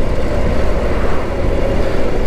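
A Harley-Davidson Street Glide Special 2021 with its 114 engine runs steadily at close range, a dense, continuous low rumble with no speech over it.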